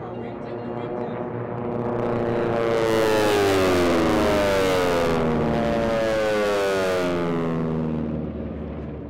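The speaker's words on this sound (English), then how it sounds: "That low rumble you hear, that's that big, beautiful Pratt Whitney radial engine." A T-6 Texan with a Pratt & Whitney radial engine passes at an air race, its loud droning roar and buzzing propeller swelling and shifting pitch as it goes by, then fading slightly.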